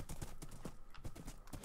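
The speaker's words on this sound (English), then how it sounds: "That horse doesn't jump very high, it seems." Horse hooves clip-clopping in the Minecraft video game, a quick steady series of sharp knocks, fairly close and alone without talk.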